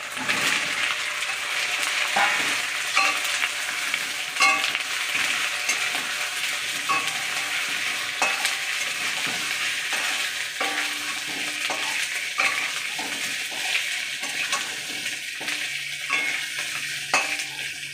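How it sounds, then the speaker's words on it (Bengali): Potatoes dropped into hot oil and stirred, a loud continuous sizzle broken by repeated scraping and clacking of a utensil against the pan, close up with no talking. "গরম হয়ে গেছে এবার আমি আলুগুলো দিয়ে দিচ্ছি"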